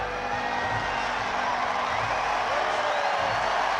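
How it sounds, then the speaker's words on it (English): A stadium crowd at a college football game between New Mexico and Utah State cheers after a kickoff, a steady, broad roar of many voices that holds at an even loudness throughout. "the big cheer that you hear after every kickoff"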